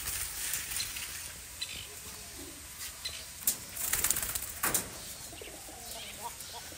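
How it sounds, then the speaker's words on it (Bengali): Domestic pigeons kept at a home coo softly at close range, a few low murmuring calls mixed with faint rustling and a brief flutter against quiet outdoor background. "এখানে 3টা কবুতর আছে আর এখানে নিচে একটা কবুতর আছে"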